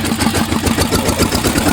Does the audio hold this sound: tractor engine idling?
yes